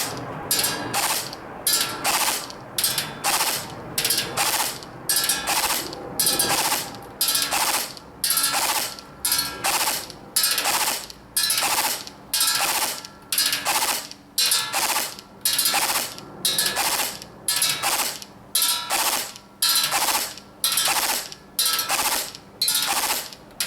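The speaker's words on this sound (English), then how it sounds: "sorry if the gun's really close to the camera there and it's really loud. The gun does sound nice and smooth" An Ares M4 X-Class airsoft gun fires right beside the mic, its gearbox cycling in a steady stream of sharp, loud mechanical cracks and whirs, shot after shot at an even rhythm with brief pauses, and no talking.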